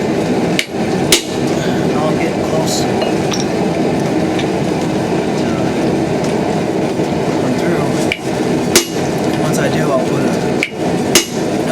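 Steel fork being forged with hammer blows on an anvil, a piece of steel laid underneath to spare the anvil face; a few sharp, loud strikes ring out spaced apart over a steady background hum.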